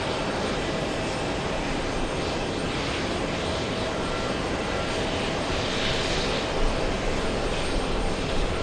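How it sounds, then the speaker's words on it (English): Air India airliner at JFK airport taxiing toward runway 22 for takeoff, a steady loud roar of jet engines holding constant throughout, with no voices. "Air India, yes, that one pushing, heading to the 22s for takeoff"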